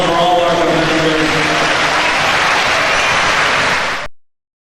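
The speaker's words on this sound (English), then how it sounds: "Let's give a round of applause for all our competitors" A crowd gives a round of applause for robot combat competitors at a 1997 championship event, with steady, dense clapping filling the hall and cheering mixed in before it cuts off abruptly.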